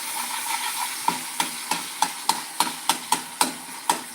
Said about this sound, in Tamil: ஸோ இது நல்லா வதங்கிருச்சு.